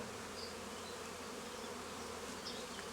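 Dense, steady buzzing of many bees swarming close by, continuous with no pauses.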